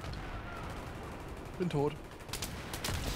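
Sniper rifle gunfire during a Battlefield 3 multiplayer Rush match: a couple of sharp, fairly distant cracks over a constant battle din, with a short spoken line between them.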